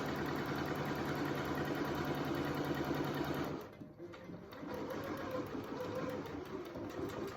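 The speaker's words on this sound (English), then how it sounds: "we will go ahead and sew straight down that seam" A sewing machine stitches a face mask seam with a steady, close whirring hum that dips briefly midway, then carries on running evenly to the end.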